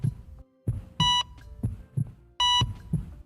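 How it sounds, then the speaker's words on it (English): Heartbeat sound effect dropped into a podcast-style talk show, pulsing in loud regular thumps with bright electronic beeps layered over the beats, no talking. "what's the heartbeat for?"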